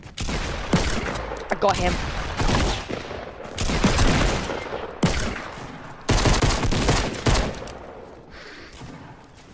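Revolver shots in Fortnite, several loud, separate cracks a second or two apart, with a player briefly talking between them.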